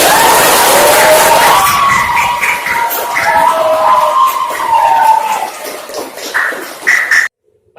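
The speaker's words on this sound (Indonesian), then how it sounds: "mari kita beri tepuk tangan untuk kita semua." A classroom of students claps together in a dense, loud burst with a few voices calling out, gradually thinning out before stopping abruptly.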